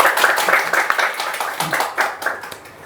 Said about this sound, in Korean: 멋진 시 낭독 들려주신 이소우 시님께 다시 한번 큰 박수 부탁드립니다